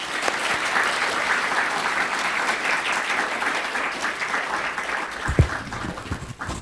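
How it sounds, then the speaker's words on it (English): An audience at a talk at the University of Oxford welcomes a speaker with dense, sustained clapping that fills the hall, then thins out toward the end. "if you could all join me in giving him a clap and welcome him tonight"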